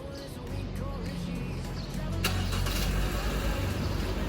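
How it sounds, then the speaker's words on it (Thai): A 2017 Honda Civic 1.8E starting by remote key, its engine catching with a sharp burst and settling into a steady, moderately loud idle close by. "รถสตาร์ทเครื่องยนต์เรียบร้อยแล้วค่ะ"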